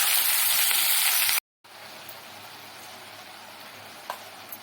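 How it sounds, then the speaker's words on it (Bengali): Chopped kalmi greens crackle and sizzle in a hot pan, a bright hissing fry that cuts off briefly and then carries on more softly, with a couple of light scrapes from stirring. "শাক কুচিগুলো দিয়ে ভালো করে নেড়ে চেড়ে দেবো।"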